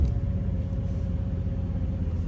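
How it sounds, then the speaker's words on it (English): A car being brought back to life rolls off in drive on its first run: a low, steady engine and road rumble, fairly quiet and even throughout, with no voices over it. "We are driving"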